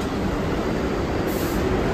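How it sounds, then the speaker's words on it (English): Loud, steady rumble and roar of a New York City subway train arriving close by, continuous throughout with a brief higher screech of wheels near the end. "Our train is here."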